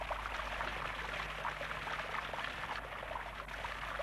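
Großer Sprudel mineral spring at Bad Nauheim, warm saline carbonated water gushing up, a dense continuous rushing and splashing roar with a low hum underneath, steady throughout.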